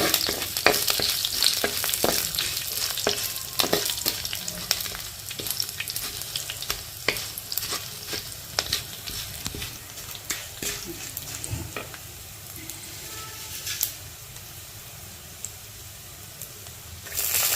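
Dried red chilli pieces frying in oil for a ivy gourd and moong dal curry, a steady crackling sizzle with frequent sharp pops and stirring clicks that thin out toward the end, no talk.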